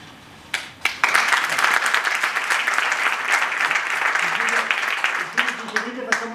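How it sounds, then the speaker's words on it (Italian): Sustained audience applause at an Italian Liberation Day (25 aprile) commemoration gathering, starting after a few sharp claps and holding steady and dense before thinning out near the end, with a faint voice underneath. "facciamo un applauso complessivo finale"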